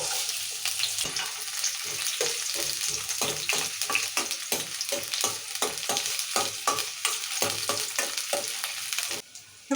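Onions sizzle and fry in hot oil for a masala paneer curry, with repeated scraping stirs of a spoon in the pan, close and steady throughout.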